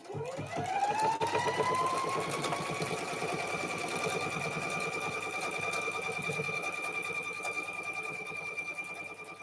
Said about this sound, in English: How's the serger, Miss Abby?